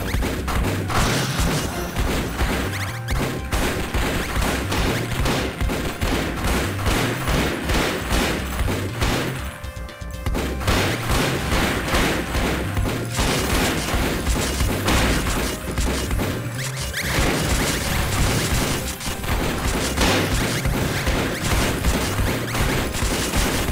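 Relentless enemy gunfire and explosions in the arcade shooter Circuit Breakers, dense rapid shots and thuds layered over pounding game music, loud and continuous throughout.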